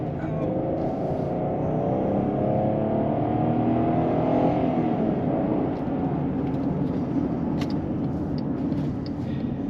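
Car tyres rolling over a grooved musical road in New Mexico, a steady loud droning hum of layered tones under constant road and engine noise, close and continuous throughout.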